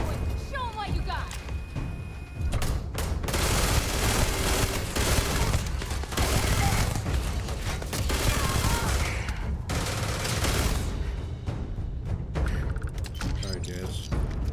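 Rapid bursts of gunfire from the leader's gun in Starfield, loud and dense volleys with mechanical clanks between them, and a voice talking over the shooting.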